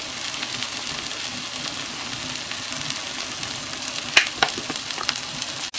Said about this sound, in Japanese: これナスをね、さっき炒めたナスを放り込んでまたちょっと和えてます。